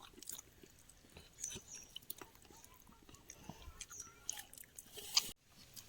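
Children eat a home-cooked village lunch, with soft, close chewing and smacking mouth sounds in brief irregular bursts over a quiet room background, plus a light clink near the end.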